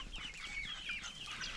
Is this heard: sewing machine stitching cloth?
no